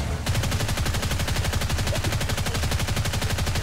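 Rapid automatic gunfire from a Toy Story plastic army men shooter game, a dense continuous rattle of shots that runs loud and steady for the whole stretch with no talking over it.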